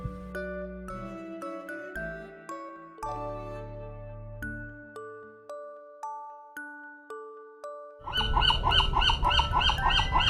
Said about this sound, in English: This is a canary.